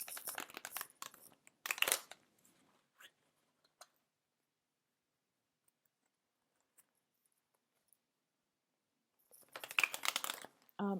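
A tarot card deck is shuffled by hand, soft close riffles and rustling card slides in two short bursts separated by a long near-silent gap.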